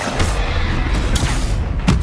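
A Confringo fire spell bursts in Hogwarts Legacy, a loud continuous rumble of booms and thuds with a few sharp cracking hits in the middle of combat.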